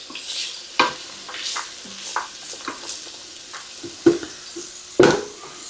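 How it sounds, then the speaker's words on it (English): Ingredients for chicken and rice soup sauté in a pot, a soft sizzle punctuated by sharp clacks and scrapes of a spoon stirring, close by and uneven in rhythm. "I'm gonna let this saute for about maybe 5 minutes."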